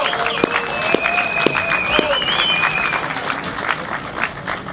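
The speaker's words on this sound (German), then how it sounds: "Applaus für Gerd Schinkel." Audience applause at an outdoor Stuttgart 21 Monday demonstration, moderate clapping and crowd noise while a voice or whistle-like tone rises briefly above it, fairly steady and mid-distance.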